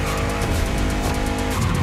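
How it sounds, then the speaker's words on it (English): Race cars, a Citroën GT and a Renault Trezor, in The Crew Motorfest video game, loud engine roar with screeching tire skids, dense and continuous throughout. "Channel is back online for a race between two cars that are just out of this world."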